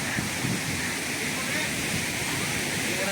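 Water roars out of opened dam gates after days of heavy rain. It makes a dense, constant rushing roar with no break, close by and loud throughout.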